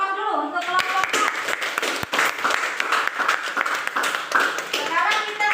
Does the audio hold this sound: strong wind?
no